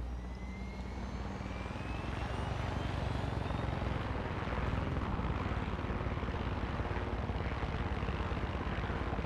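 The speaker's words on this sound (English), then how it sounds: "We are gonna fly by helicopter though." A helicopter in the video game Far Cry 6 flies with a dense, steady rotor and engine roar that swells slightly midway and holds loud throughout, with no talking.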